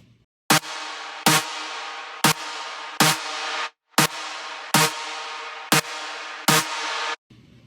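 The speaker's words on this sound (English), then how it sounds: "which adds a kind of sucking effect going into the next part." Electronic dance track with a repeating swelling reverb suck effect: eight evenly spaced loud sharp hits, each followed by a sustained wash that pulls inward before the next, ending abruptly.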